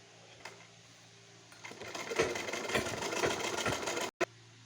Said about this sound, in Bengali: এবার আমি একটু উল্টিয়ে সেলাই নেব, উল্টিয়ে সেলাই করে নেব, তাহলে আরও বেশি পোক্ত হবে সেলাইটা।